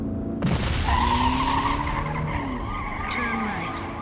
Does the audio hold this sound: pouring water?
no